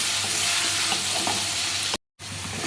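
Finely chopped onion frying in a pan, a steady bright sizzle with faint stirring, with a brief dropout near the end.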